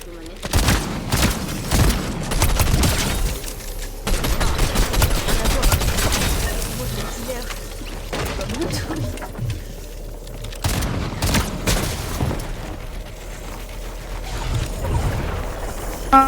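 Rapid gunfire bursts and booms from a video game battle, repeated throughout amid loud overlapping sounds, with someone talking excitedly over the shooting.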